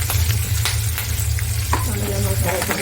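Curry leaves frying in hot tempering oil, a loud steady sizzle with crackles and a few light utensil taps, no voices.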